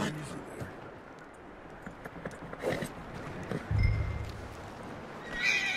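Horse whinnies and clip-clopping hooves from the video game Red Dead Redemption 2, with a louder snort or neigh near the middle over a low ambient bed, and a voice talking faintly.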